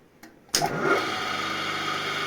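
A 1.1 kW electric motor, started with a lamp in place of its start capacitor, kicks in after a couple of faint clicks. It spins up and holds a steady, high whirring hum at no load, fairly quiet and close.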